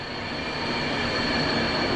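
Brda passenger train rolling past at Warszawa Zachodnia station, a steady broadband rumble of wheels and carriages with a faint high squeal, holding at an even, fairly loud level for the whole stretch.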